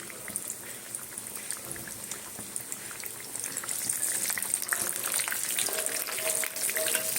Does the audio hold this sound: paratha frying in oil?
yes